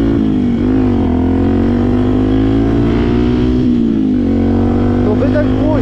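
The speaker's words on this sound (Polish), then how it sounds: "To wydech głośny." A Yamaha WR 125 dirt bike with a loud exhaust drones loudly and continuously nearby, its pitch dipping and rising slightly, with someone talking over it.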